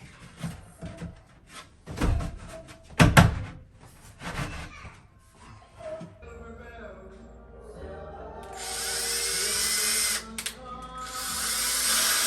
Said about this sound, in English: you always want to make sure you pre-drill a pilot hole before you screw into it